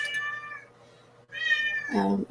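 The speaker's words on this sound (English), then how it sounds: "Sorry if y'all hear my son's cat back there going crazy" A cat meows loudly and insistently in the background, several drawn-out calls in a row, the last one rising into a harsh, lower yowl.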